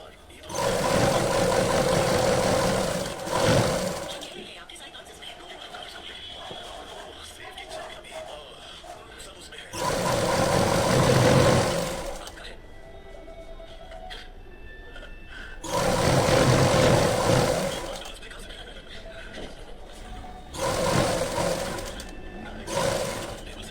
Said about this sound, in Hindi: तो ये देखिए, इस तरह से हमें साइड से सिलाई करते जाना है